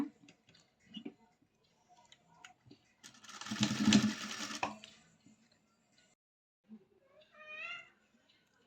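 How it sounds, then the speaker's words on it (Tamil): A sewing machine runs in one steady burst of about two seconds while a blouse seam is stitched, loud and close. Brief ticks come before it and faint voices after it. "நெட்டு தையல் போட்டுக்கலாங்க ஜாயின் பண்ணி"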